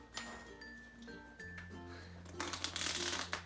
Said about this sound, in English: Give them a little shuffle.